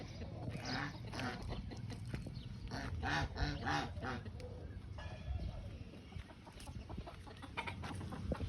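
Hens and roosters on a farm in Gariyadhar cluck and call repeatedly at close range, with several birds overlapping while a person talks over them.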